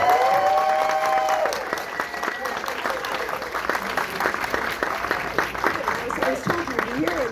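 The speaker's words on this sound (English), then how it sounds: "Can we give them another round of applause?" Audience at a film Q&A panel breaks into sustained clapping and cheering, a dense wash of applause that fills the room while voices talk and shout over it.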